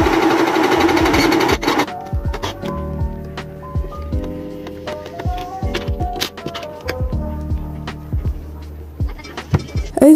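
Sewing machine stitching fabric for a crop top, the machine cushioned to damp its noise; a dense run of rapid mechanical clatter after a brief louder burst, steady and close throughout.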